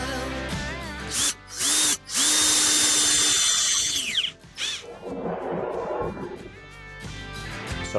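A power drill drives screws to fit companion way doors into position. Several close, loud whirring bursts rise and stop abruptly, and one long high-pitched run ends with a winding-down squeal. Clatter and rattling fill the gaps.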